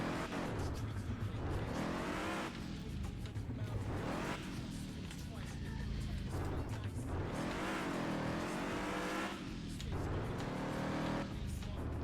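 Fast car engine in a racing video game, revving and surging in repeated rising sweeps across the whole stretch, loud and close, with a voice talking over parts of it.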